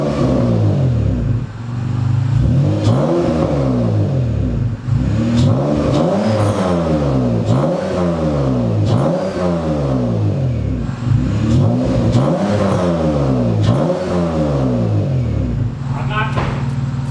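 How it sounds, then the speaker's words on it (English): A turbocharged V6 Honda Accord with a custom exhaust revs repeatedly, its loud engine note climbing and falling in a regular rhythm of rises, heard up close over a steady idle drone. "we're gonna let it warm up and then do some revs."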